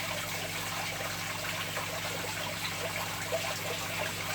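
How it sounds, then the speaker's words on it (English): Water from a bowl pours and trickles steadily into a shrimp tank, a continuous close splashing flow with no pauses. "I'm just going to drop some of that water out first."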